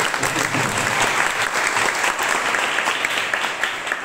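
An audience at a youth day magic show claps together in sustained applause, a dense wash of hands that runs the whole time and eases slightly toward the end.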